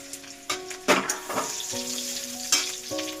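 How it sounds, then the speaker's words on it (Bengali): Garlic and green chilies frying in hot oil, an ongoing sizzle with bursts of crackling spatter and stirring clatters recurring every second or so. "তেলটা কিছুক্ষণ গরম হতে দিলাম এবার আমি রসুন একে একে কাঁচা লঙ্কা"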